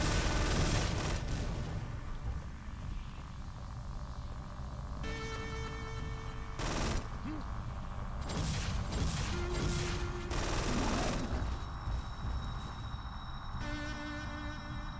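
Gunfire in the video game After the War, a series of sharp bursts and shots scattered through a dense, steady wash of game ambience and hum, moderately loud throughout.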